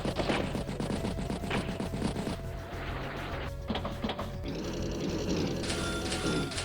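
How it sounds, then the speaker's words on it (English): Battlecopter strike in the Advance Wars video game, a loud burst of rapid mechanical gunfire and clattering game effects followed by steadier whirring machine noise, with no talk. "Battlecopter strike battlecopter."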